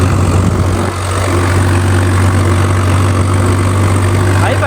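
A 4WD tractor's diesel engine runs steadily at high revs, a loud, continuous drone with strong low throb, close by and unbroken for the whole stretch.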